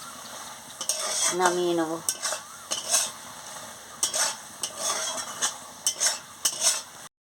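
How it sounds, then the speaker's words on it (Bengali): A utensil scraping and clinking in a pan of potato and eggplant gima curry, in steady strokes over a soft sizzle; someone speaks briefly. "ভালো করে নাড়িয়ে নিচ্ছি।"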